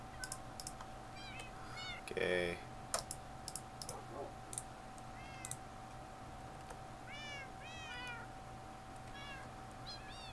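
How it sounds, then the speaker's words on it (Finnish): A cat meows repeatedly, several distinct plaintive calls spread across the stretch, alongside keyboard clicking and a brief spoken word. "Kauhean meteli nyt kissasta"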